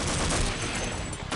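Turret fire in the Half-Life video game rattles in a dense, continuous stream of rapid shots, loud and close, briefly dipping near the end before resuming.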